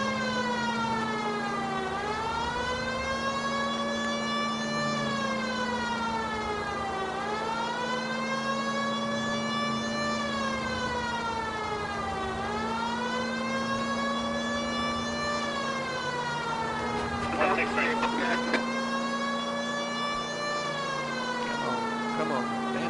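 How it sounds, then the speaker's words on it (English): Police car siren in the video game L.A. Noire, a loud wailing tone sweeping up and down in slow repeated cycles under a steady engine hum, with a brief burst of other noise near the end. "Didn't mean to click the siren off, make her sing, so."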